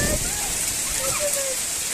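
Large hailstones pelting down outdoors in a steady, dense patter that fills the whole stretch, with a few voices faintly audible underneath.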